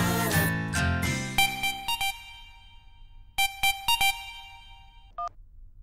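A phone ringtone plays in bright electronic bursts of repeating tones, two quick groups separated by a pause, following a brief burst of louder noise at the start.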